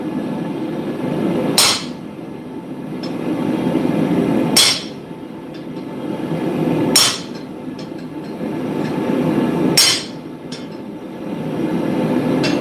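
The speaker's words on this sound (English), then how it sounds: "I don't know where my normal hot cut chisel went, so I'm using this one." Four sharp, loud hammer blows strike a hot cut chisel at the forge, spaced about three seconds apart over a steady low background rumble, with no talking.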